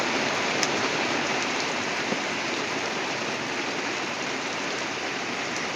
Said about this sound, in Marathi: आज म्हणजे चांगली जोरातच पाऊस झाला सुरुवात केली आहे